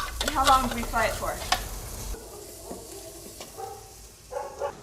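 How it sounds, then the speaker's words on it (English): Olives frying in sofrito in a pan as they are stirred, a steady close sizzle with scraping stir strokes, loudest at first and then settling to a softer hiss. "I prefer frying the olives"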